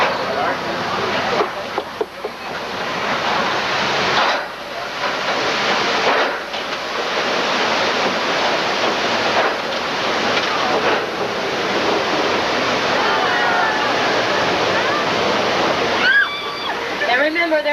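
Heavy rushing and splashing water on the Red Sea crossing of a theme park tour ride, a loud continuous roar with surging bursts and wind buffeting close to the microphone.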